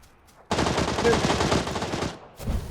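Rapid automatic gunfire from PUBG rattles in a dense burst lasting about a second and a half, loud and close, followed by a brief shot or two after a short gap.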